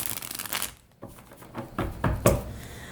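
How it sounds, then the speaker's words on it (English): Tarot cards are shuffled by hand in a quiet room, with soft riffling and a few sharper slaps and taps of the deck, close up and faint. "as I shuffle, cards will jump out"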